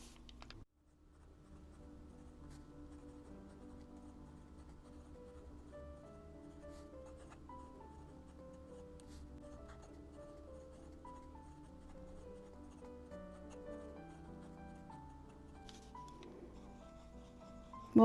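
A Ferris Wheel Press Joule fountain pen with a steel nib writes on paper, giving a faint, continuous close scratching and rubbing with small tonal squeaks as strokes change.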